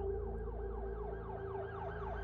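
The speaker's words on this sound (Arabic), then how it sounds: "انشغلوا بصوت عربيات البوليس وهي بتقرب من السكن." Police car sirens wail in repeated rising and falling sweeps over a steady low engine rumble, loud and continuous with no voices.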